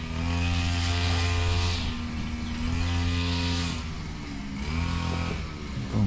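A grass cutter engine runs steadily nearby, a loud buzzing drone with slight dips in pitch as it works.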